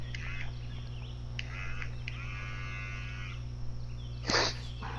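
A mobile phone buzzes with a short droning vibration on a golf course, faint and steady for about a second, amid outdoor ambience and a brief burst of noise near the end.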